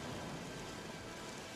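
Steady rain hisses continuously, a dense, even wash of falling drops.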